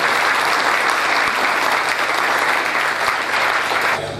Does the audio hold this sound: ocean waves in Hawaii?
no